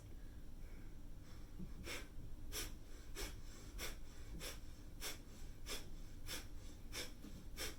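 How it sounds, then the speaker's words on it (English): Quick, forceful exhales in a fast breathing exercise, about ten sharp huffs at a steady rhythm over faint background noise. "it's a fast breath"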